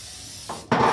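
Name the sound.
spraying cooking spray into a baking pan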